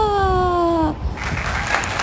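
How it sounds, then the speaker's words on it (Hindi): Brief burst of audience clapping that breaks out right after a woman's sustained spoken note, filling the second half at moderate volume. "तालियां"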